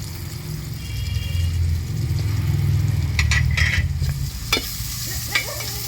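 Onions frying in a pan for a fish curry, a steady sizzle with a low rumbling bed, joined toward the end by a few sharp scrapes and clinks of stirring.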